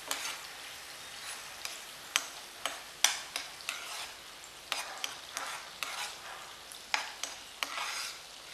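Onion and capsicum sautéing with spices in a pan for Chinese-style chilli chicken, a steady close sizzle broken by regular scraping stir strokes roughly every half second, with no talk.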